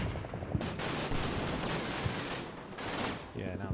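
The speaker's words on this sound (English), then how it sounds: "there's an MG down here that's still" A machine gun fires in a World War II style video game battle in Italy, a steady rapid stream of shots under surrounding battle noise, fairly loud and continuous across the whole moment.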